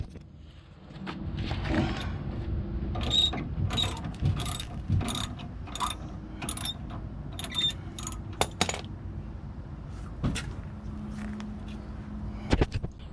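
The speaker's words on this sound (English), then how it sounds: "I already got the ratchet on the back one" A hand ratchet clicks in quick repeated bursts while loosening the wheel alignment bolts on a car, the sharp pawl ticks close and fairly loud over a low background rumble, with a few pauses between runs.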